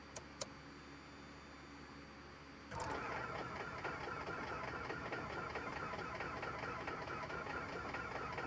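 Right engine of a light aircraft in Microsoft Flight Simulator 2024 catching after a couple of starter clicks, then settling into a steady, loud, rattling idle around 1,000 RPM that continues alone.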